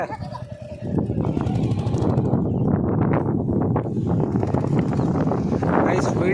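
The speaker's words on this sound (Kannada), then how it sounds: "ವಾಯ್ಸ್ ಕೇಳಲ್ಲ, ಫುಲ್ ಗಾಳಿ." Strong wind buffets the microphone in a loud, continuous rumbling roar that drowns out nearly everything else.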